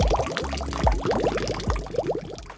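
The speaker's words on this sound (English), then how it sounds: "I set up a drip irrigation system with some tubing and a small pump I had laying around" Water from a small pump feeding a drip irrigation system for coco-grown plants gurgles and splashes in quick bubbling bursts, an irregular stream of close, wet trickling sounds.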